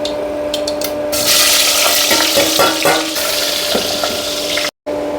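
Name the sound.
mustard seeds and cumin sizzling in hot oil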